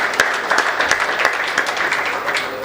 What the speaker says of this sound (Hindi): ताली बजा दो भाई कप्तान सिंह के लिए